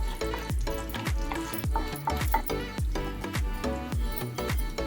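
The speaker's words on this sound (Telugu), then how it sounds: "వేడెక్కాక శనగపప్పు వేసుకుంటాం. తర్వాత ఆవాలు వేసుకోవాలి." Chana dal and mustard seeds frying in hot oil, a dense steady sizzle with repeated sharp pops and spatters close by. The sound is loud and continuous, with no talk.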